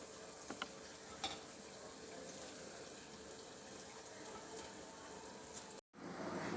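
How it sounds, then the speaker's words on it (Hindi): Onion rings deep-fry in oil over medium heat, giving a soft, steady sizzle and bubbling with a few small pops. The sound drops out for a moment near the end before it resumes. "आप इनको मीडियम आंच पर फ्राई करना है"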